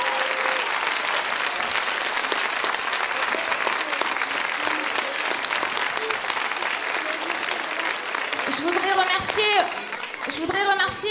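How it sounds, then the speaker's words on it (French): Warm, sustained applause from a concert audience after an orchestral performance of a school production, dense and steady throughout, with a few voices and children's calls rising near the end. "On peut applaudir très chaleureusement."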